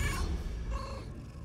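A man imitates a cat meowing, a short drawn-out nasal meow voiced close and fairly loud, heard alone.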